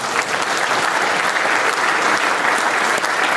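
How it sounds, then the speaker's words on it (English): An audience at a political launch event applauds in a dense, steady burst of many hands clapping, loud and sustained throughout. "Please give yourselves a big round of applause"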